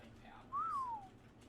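A single whistle command to a wyvern in the game Ark, one short clear rising then falling tone over quiet background hum.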